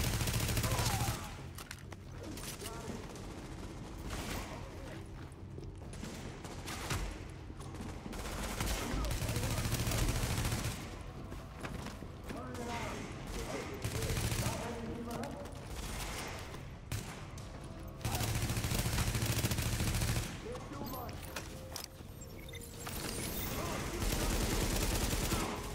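Pistol gunfire in The Division game cracks out in dense, repeated volleys through a subway morgue setting, loud and continuous, mixed with game effects and some talking.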